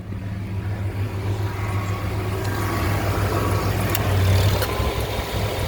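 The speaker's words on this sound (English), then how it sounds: "let me turn the air on and make sure that compressor comes on" A car's air conditioning compressor runs with a steady low engine hum, near and fairly loud, swelling slightly toward the end, with no speech.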